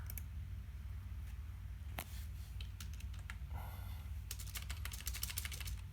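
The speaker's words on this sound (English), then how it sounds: "Typing in settings." Keys clack on a computer keyboard as someone types on a Windows 10 PC, first with a few separate taps and then a fast burst of keystrokes over a steady background hum.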